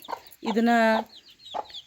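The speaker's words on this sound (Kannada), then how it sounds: "ಇದು ನಾಟಿ ಕೋಳಿಲಿ ಒಂದು ಜಾತಿ" A native country hen gives a short cluck, then a drawn-out squawking call, followed by another brief cluck, close and fairly loud.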